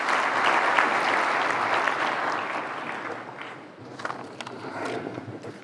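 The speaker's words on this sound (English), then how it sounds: "Let's give him a round of applause as he comes up." Audience applause greets Carlos Slim as he comes up to speak at a leadership dialogue in Rwanda, a dense, steady clapping from a large crowd that gradually thins toward the end.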